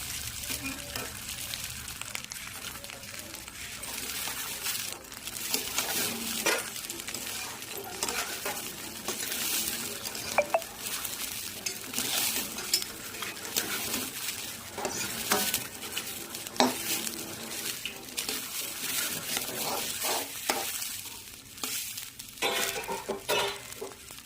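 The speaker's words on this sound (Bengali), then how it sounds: "এটা একটু নাড়াচাড়া করবো ভালো করে" Food being stirred in a frying pan, with repeated scraping and clinking of a utensil against the pan over a soft, ongoing sizzle, fairly quiet and close.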